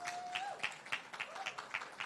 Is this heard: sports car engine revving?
no